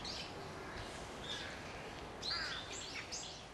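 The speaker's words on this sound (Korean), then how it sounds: "새소리 너무 좋아요." Faint birdsong carries through a quiet outdoor setting, with a few thin high chirps and short trilling phrases sounding at a distance over soft background hiss.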